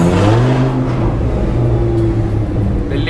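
A sports car engine at a GT-R, Ferrari and Audi R8 gathering accelerates with a loud, steady rumbling drone heard from inside the car, with no talking.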